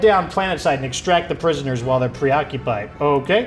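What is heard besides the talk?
None of the usual background noises is heard.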